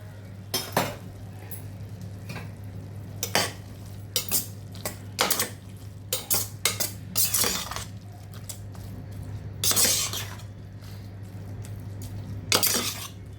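Cooked chow chow and masoor dal being stirred and lightly mashed in a pressure cooker pot, a series of close, irregular scraping and clinking strokes of a spoon against metal, with pauses between bursts over a steady low hum.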